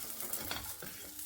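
Garlic and curry leaves fry in a pan, a dense close sizzle broken by a few short stirring scrapes, with no voices.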